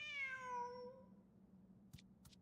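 A cat meows in the video game Genshin Impact: one long, clear meow that trails off, followed by two soft taps. No one speaks.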